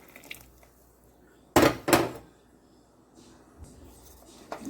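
A spoon scrapes and knocks against a pot as coconut milk is stirred into boiling pumpkin, two sharp clatters standing out over a quiet simmer with a few softer taps.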